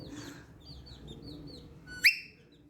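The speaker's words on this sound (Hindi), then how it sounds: "मिट्ठू सीटी कर रहा है।" A pet parrot gives a few soft whistled chirps, then one sharp, louder rising whistle near the end, fairly close in a quiet room.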